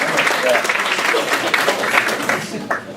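Audience applause at a Bettakultcha Leeds presentation evening, a sustained dense round of clapping from a crowd, loud and steady throughout with a few voices mixed in.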